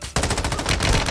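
Rapid automatic gunfire in a first-person shooter video game, a burst of fast, evenly spaced loud shots starting abruptly and running for about a second.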